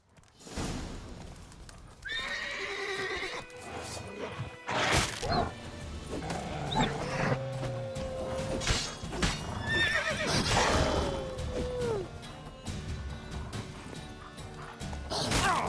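Roach the horse from The Witcher 3 whinnies loudly several times over clopping hooves, with rustles and thuds from the game's surroundings, all close and prominent.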